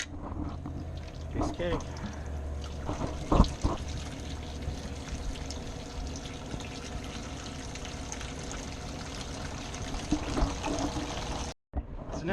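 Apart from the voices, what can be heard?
gasoline siphoned from a Ford F350 fuel tank into a bucket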